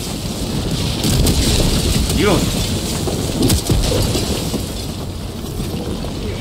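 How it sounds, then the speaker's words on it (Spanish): Meteor storm impacts rumble and crack through the Helldivers 2 battlefield on planet Maia, with booming hits and sweeping whooshes over steady noise while a voice speaks. "Ah, tormenta de meteoritos,"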